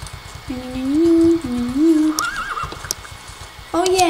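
Horse neighing in the Star Stable Online video game, two rising-and-falling whinnies in a row over steady hoofbeat clip-clop, followed by a brief snort and another short whinny near the end.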